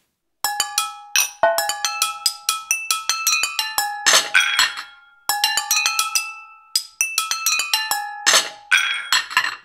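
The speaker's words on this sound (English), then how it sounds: "Here's some peculiar sampled kitchen objects." Sampled kitchen objects played as found percussion on a KORG NAUTILUS synthesizer, a busy run of bright, ringing metallic and glassy clinks and pings with tuned tones, struck in quick irregular rhythms across two phrases, close and clear, with no talk.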